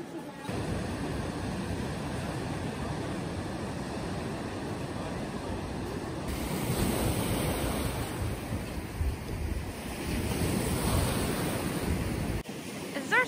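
Winter sea surf rolls onto the shore in Odessa, Ukraine, a steady broad roar of waves mixed with wind buffeting the microphone, continuous and fairly loud throughout.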